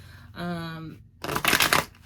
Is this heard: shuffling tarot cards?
yes